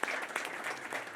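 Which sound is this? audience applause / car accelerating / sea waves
audience applause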